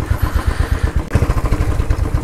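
Royal Enfield Continental GT 535 ridden on a mountain lake trip, its single-cylinder engine thumping in a steady, heavy low pulse, loud and close, with no talking.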